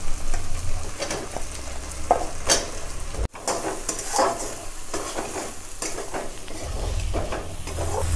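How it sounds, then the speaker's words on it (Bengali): Spice paste and fried potato pieces sizzle and crackle in a pan for a fish-head dalna curry, with a spatula repeatedly scraping and stirring through the mix, steady and close with no talking. "আমি ভাজা আলুটাও এই মশলার মধ্যে দিয়ে আর একটু কষিয়ে নেব।"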